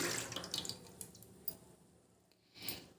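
Ground rice paste is poured from a mixer jar into a bowl, making faint, wet splashing and squelching sounds that come in soft, uneven bursts and fade near the end.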